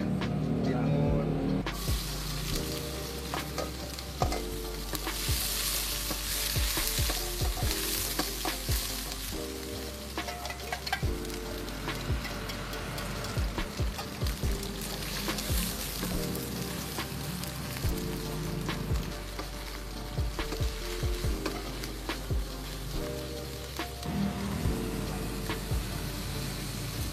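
Porridge with tomato and cucumber stir-frying in a hot pan, a dense steady sizzle with scraping and clattering stirring strokes throughout, no talk over it.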